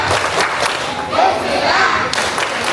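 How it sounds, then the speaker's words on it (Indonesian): A crowd of schoolchildren claps and chants together in a lively, rhythmic Indonesian group cheer, loud and close, with thumping beats. "Tepuk semangat Rahman"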